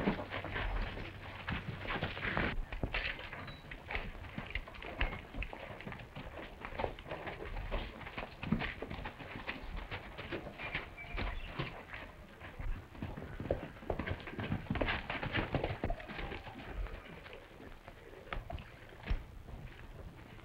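Horses' hooves clip-clopping in a 1939 Western, a continuous brisk patter of many hoofbeats, like a group of riders moving at speed, running the whole length with no talking.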